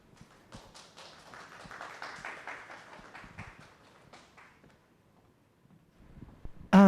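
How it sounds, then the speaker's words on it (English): An audience at a hybrid meeting session claps to welcome a speaker: a scattered, moderate round of applause that builds, then fades out over several seconds before a brief louder sound at the end. "So give a big round of applause and welcome Mr."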